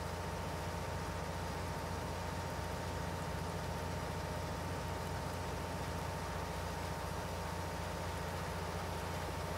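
A small tractor engine idles in Farming Simulator 19, giving a steady, even, low hum that holds unchanged for the whole stretch.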